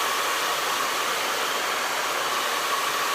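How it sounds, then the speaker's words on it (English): A hair dryer blows steadily and loudly throughout while curls are blow-dried with a brush, giving a constant close-up rushing hiss with no breaks. "keeping the brush down, keeping the blow dryer down"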